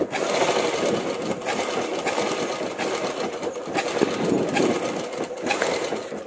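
Sewing machine stitching a boat neck blouse, running steadily and close up with a continuous whirring hum and rapid needle clatter throughout, no voices.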